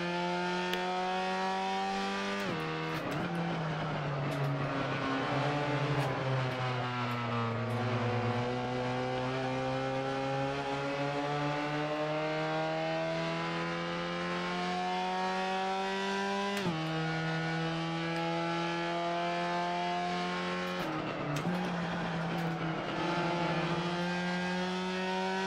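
A racing car engine in the PISTA Motorsport simulator on Linux drones steadily at high revs, its pitch sliding down and climbing back up as gears shift, oddly doubled, loud and continuous with no talking.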